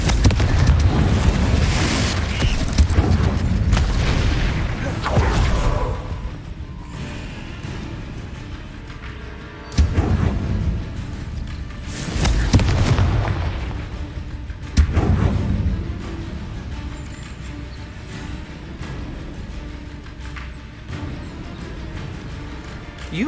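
Confringo fire spells exploding in the video game Hogwarts Legacy, repeated heavy booming blasts with long rumbling tails over continuous combat noise, each burst surging loud then fading.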